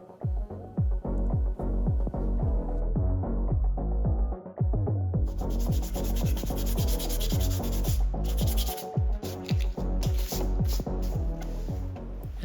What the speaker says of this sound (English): So I thought I'll use some sanding paper.